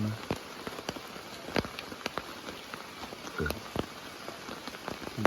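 Heavy rain patters steadily on a surface at a campsite at four in the morning, with scattered louder drops and splats throughout, close and continuous.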